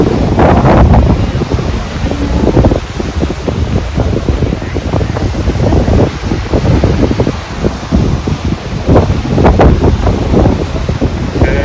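Loud rushing wind buffeting the microphone over the roar of surf on a Mexican beach, with waves surging and breaking repeatedly, close and continuous.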